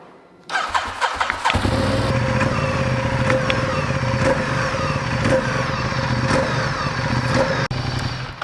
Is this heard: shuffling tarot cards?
no